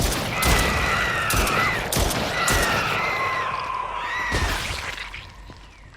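Bursts of video game gunfire ring out in three or four loud, rapid volleys with brief gaps between, sharp cracks and echoing tails filling the space, no talk heard.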